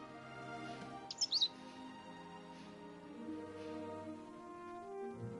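Pet bird Cheep Cheep chirps in a brief cluster of sharp high tweets, close and clear, over a soft, steady musical background with no talk.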